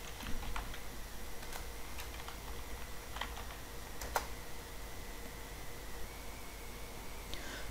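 Someone types a Python command into a command prompt on a computer keyboard, giving a few soft, scattered key clicks over a steady background hiss, with no talking.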